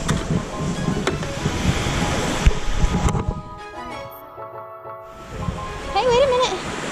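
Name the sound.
ocean waves on a beach in Guam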